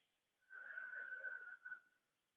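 Deep, slow inhalation during a yin yoga stretch class, heard as one close, quiet breath lasting over a second with a slight whistling, wheezy edge and no talk over it.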